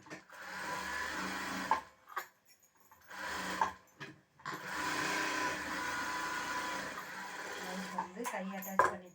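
A sewing machine stitches a blouse sleeve, running in several steady bursts separated by short pauses, close and fairly loud, with a voice talking in between.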